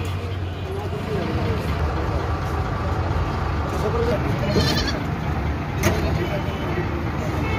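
Goats and their kids bleat in short calls, some near and some farther off, during a goat delivery in Pakistan. A constant vehicle engine hum runs underneath, and people talk over them.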